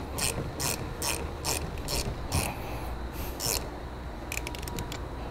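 A ratchet tightens a nut on a battery terminal stud while a trailer brake controller is wired into a 2008 vehicle: a quick series of sharp clicking bursts up close, then a faster flurry of clicks near the end.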